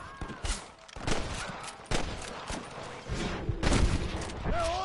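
Gunfire in a Red Dead Redemption shootout alongside deputies: repeated sharp shots and bursts at varying distances, irregular and overlapping, with some voices and game effects mixed in.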